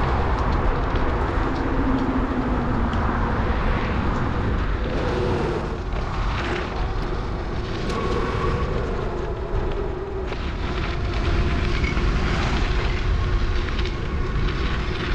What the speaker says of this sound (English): Our train.